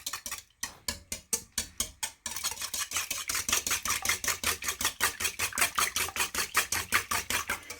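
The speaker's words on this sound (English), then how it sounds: "we're just gonna gently beat them using our whisk" Two eggs gently beaten with a whisk in a bowl, quick regular clicking strokes that start in short bursts and then settle into a fast, steady rhythm close up.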